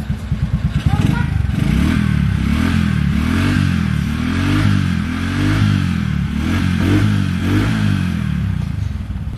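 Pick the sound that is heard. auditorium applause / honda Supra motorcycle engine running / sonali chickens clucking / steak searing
honda Supra motorcycle engine running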